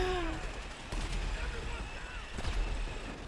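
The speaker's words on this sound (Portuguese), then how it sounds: "Levei um tiro de tanque." A loud boom from a tank cannon blast in GTA at Fort Zancudo, heavy and explosive over a constant rumbling background, with a second sharp impact shortly after.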